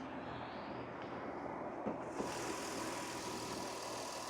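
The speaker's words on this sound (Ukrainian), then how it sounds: "Мотор працює чітко, рівненько." A Volkswagen Touareg 4Motion engine idles steadily and evenly, a low continuous hum recorded close up with no talking.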